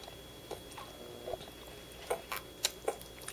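Someone chews sour grapes close to the microphone, making faint, irregular wet clicks and squishes against a quiet background.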